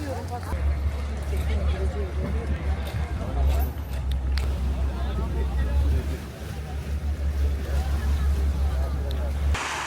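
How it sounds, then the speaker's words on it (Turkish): A tour boat engine hums steadily over lapping water as it arrives at Suluada island near Adrasan, Turkey, with voices chattering throughout in the background. "Arkadaşlar teknemiz şu anda Sulada'ya geldi."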